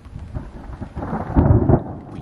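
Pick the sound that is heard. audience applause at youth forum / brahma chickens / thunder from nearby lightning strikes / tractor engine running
thunder from nearby lightning strikes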